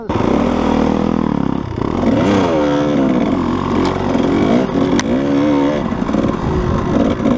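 A Kawasaki KDX220 dirt bike fitted with a Tusk Recon front tire and a 220Ride gummy rear tire rides through sand, its two-stroke engine revving up and down in repeated rising and falling surges, loud and close throughout.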